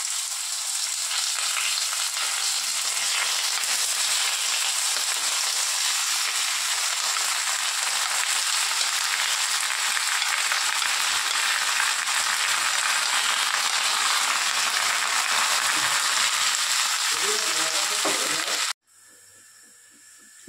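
Kalonji seeds and grated bottle gourd fry in a pan with a steady, loud, continuous sizzle and hiss that holds for a long stretch before cutting off abruptly near the end.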